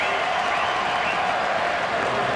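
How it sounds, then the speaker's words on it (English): Stadium crowd at a CFL football game in Ottawa cheering steadily for the bunny on the big board, a dense, continuous roar of voices and applause that holds level throughout. "Crowd's cheering the bunny again on the board."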